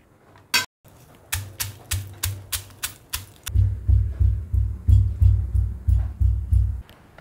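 Roasted peanuts, about 100 grams, coarsely pounded for a dry cluster bean dish: a lone sharp knock, then a steady run of close, loud, rhythmic thuds that grow heavier and quicker toward the end, with no talking.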